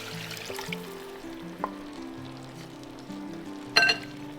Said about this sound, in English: I'm gonna start deglazing the pan with our bone broth.